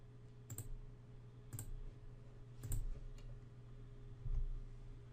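A computer mouse clicks on fields in Excel, giving four sharp, isolated clicks spaced about a second apart over a quiet background hum, with no talking.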